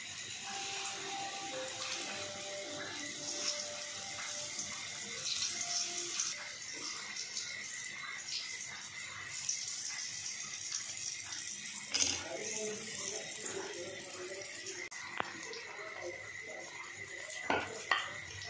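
Jackfruit slices drop into hot oil in a pan over a medium gas flame, giving a steady, close sizzling hiss with occasional sharper crackles and pops throughout, no voices.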